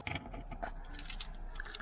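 Keys jangle and clink close by while someone rummages inside a camper van, a short burst of light metallic rattles over a low background hum.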